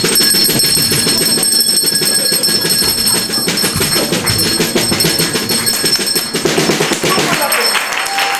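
A bell on an old machine rings in a fast continuous metallic trill, loud and bright with a mechanical clatter beneath, lasting the whole stretch before tapering near the end.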